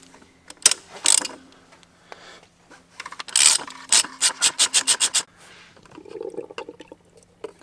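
A 1/2-inch ratchet fitted with a 32 mm impact socket clicks in quick bursts while loosening the oil filter on an Audi Q3. It gives a close run of rapid ratcheting clicks amid scattered metallic rubbing and clunks.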